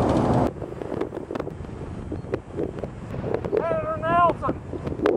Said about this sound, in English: Look at that wind, Senator Nelson.